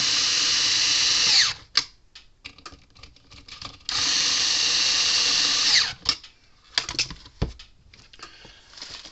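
A power drill runs in two sustained bursts, roughly a second and two seconds long, tightening terminal bolts on a Red Snap'r electric fence charger during repair, with clicks and handling knocks between the runs.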